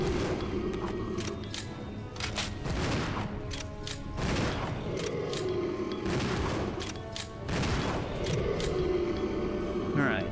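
Repeated gunfire from Resident Evil 0, shots cracking out in uneven bursts about every second over a constant low game rumble, with scattered voices mixed in.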